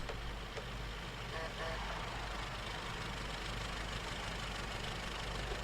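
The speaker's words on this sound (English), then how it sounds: "A car passed." A car passes in the video game Nocturne, its engine a steady mid-pitched hum sitting under continuous game ambience at moderate level, with no sharp approach or fade standing out.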